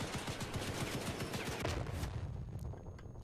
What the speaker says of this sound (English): Ooh, cannons!